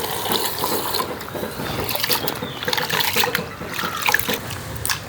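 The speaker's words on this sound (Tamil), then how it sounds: "இப்போ வந்து நாங்கள் இந்த அரிசியை வடிவாக கழுவி எடுப்போம்" Rice is swished and rubbed by hand in a bowl of water, a close, continuous sloshing and trickling with small splashes.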